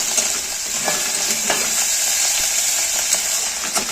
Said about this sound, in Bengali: রসুন, কাঁচা লঙ্কা, আদা সব কিছু ভাজা হয়ে গেছে